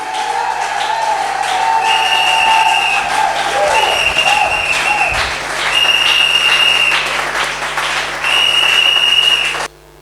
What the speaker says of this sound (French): Est-ce qu'on peut acclamer pour le nom de Dieu?